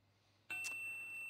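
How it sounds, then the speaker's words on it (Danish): A phone's text message notification rings out once as a short, bright chime with a lingering tone, fairly clear against a quiet room. "der kommer en sms"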